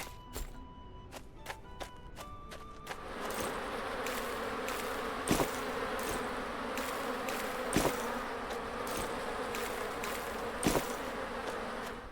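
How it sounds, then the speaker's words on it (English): Bees buzz in the medieval fantasy shop game Cozy Keep, a steady insect drone that holds at a moderate level under a few scattered taps and clicks, with no voices. "So there's some bees there."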